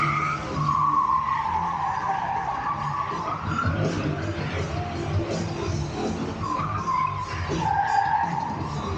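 Stunt cars at a live show skid with repeated rising and falling tire squeals over a rumbling engine and crowd din, loud and fairly close, in several sweeping bursts.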